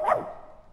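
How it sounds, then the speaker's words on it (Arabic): A single dog bark, short and fairly close, heard alone and fading quickly into a quiet background. "لا ده كان كلب معدي في النص"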